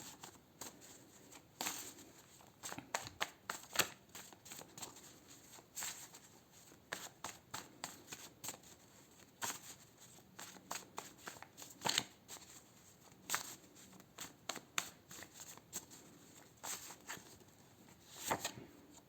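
Tarot cards are shuffled by hand in a long run of soft, crisp riffling clicks and flutters. The sound is faint and close, with irregular bursts, and no one talks.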